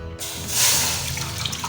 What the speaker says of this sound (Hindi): तो इसके लिए हम कढ़ाई में सबसे पहले 4 कप पानी के डालेंगे।